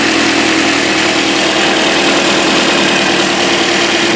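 A Scion xD engine idles with a freshly installed alternator spinning, a loud, close, steady mechanical drone with constant whirring and vibration and no pauses.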